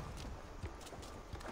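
Horse hooves clopping at a walk in Assassin's Creed Valhalla, a steady soft rhythm of hoofbeats with a couple of sharper thuds over a low ambient game background.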